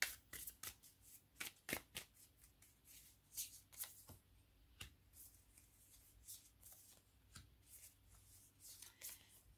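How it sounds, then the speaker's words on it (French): Tarot cards shuffled and drawn by hand, close up, with a run of sharp papery riffles, slaps and flicks at an uneven rhythm, each crisp snap standing out over a quiet room. "on va prendre trois cartes ici pour les Gémeaux"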